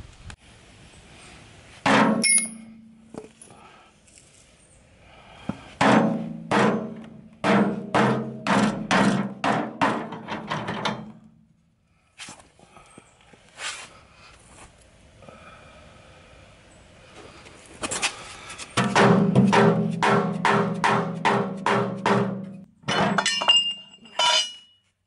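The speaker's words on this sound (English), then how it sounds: "Let me get a hammer, knock this thing down, get that blade off" Hammer blows knocking the blade off a DR field and brush cutter during maintenance: two bursts of sharp metallic strikes in quick rhythmic series, loud and close, with a pause between them.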